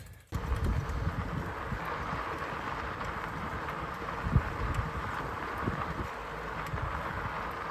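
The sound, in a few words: wild horses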